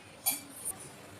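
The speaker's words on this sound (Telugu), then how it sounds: "ఓకే అండి, మూత పెట్టుకుందాం." A lid set onto a cooking pot while making mint pulao gives two faint, brief metallic clinks close together, with no talk.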